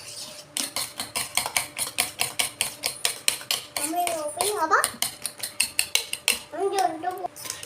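Eggs are whisked briskly in a bowl with chopped onion, chillies and tomato, a fast rhythmic clatter of utensil against bowl, close and steady, while a voice speaks over part of the beating.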